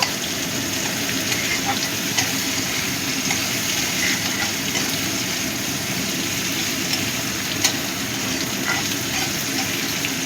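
Onions fry in hot oil in a pan, a dense, steady sizzle that stays even throughout with occasional small pops, close and fairly loud, while a faint voice murmurs underneath.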